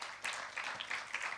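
Church congregation applauding at a worship service sermon, a brief wash of hand clapping in loose rhythmic bursts, fairly close and steady, with no speech on top.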